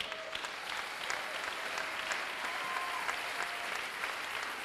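Congregation at a church service applauding together, a steady dense wash of clapping hands filling the room, loud and continuous throughout with scattered cheers mixed in.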